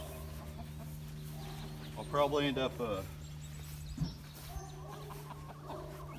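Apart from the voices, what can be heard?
chickens clucking in a backyard coop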